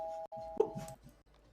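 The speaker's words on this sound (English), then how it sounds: "the doorbell to the Tower of the Cataclysm rings because of course it has one" A magical doorbell at the Tower of the Cataclysm rings once with a clear sustained electronic-sounding tone of about a second, followed by a short chime and quieter room noise.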